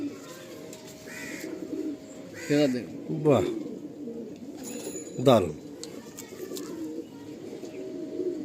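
Madrasi breeder pigeons coo in soft repeated bursts, near and fairly faint, with someone talking admiringly over them and occasional chirps between.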